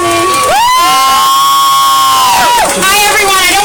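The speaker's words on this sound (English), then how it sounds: "everybody, clap it up for Jamira Burley" Crowd at a peace rally in Philadelphia's Love Park, with loud whoops and shouted cheers sliding up and down in pitch, very close and dominant, with clapping largely buried beneath.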